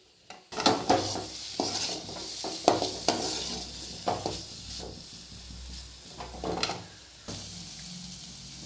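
Paneer and egg fried rice being stirred on low flame in a pan, with soft sizzling beneath repeated scraping and clinking of a spatula or spoon against the metal, close and without talking.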